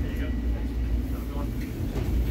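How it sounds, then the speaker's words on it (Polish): A train heard up close, a continuous low rumble and rattle of rail carriages lasting a couple of seconds with no clear talk on top. "A tak wygląda mój pociąg."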